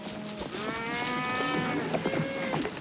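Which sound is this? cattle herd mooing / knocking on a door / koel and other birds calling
cattle herd mooing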